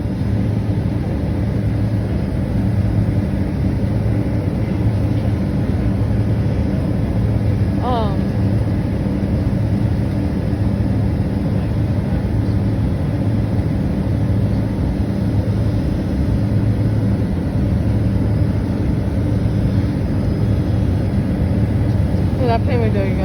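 Steady broadband roar of a passenger airplane taking off from San Francisco Airport, heard from inside the cabin, constant and loud throughout with a brief faint chirp midway.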